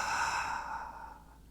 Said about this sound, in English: Here's a gasp.